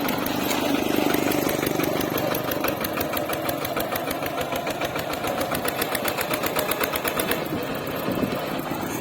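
A vehicle engine revved while driving down into a ditch: a loud, continuous rough drone with rapid knocking pulses and steady mechanical chatter throughout.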